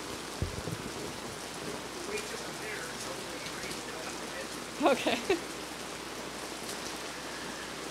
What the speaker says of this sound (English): we're going to wait until the rain subsides a bit.